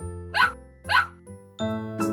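A cartoon dog in an animated Cinderella story gives two distinct yaps close up, followed by a soft tinkling chime and a brighter musical tone, all fairly loud and clean.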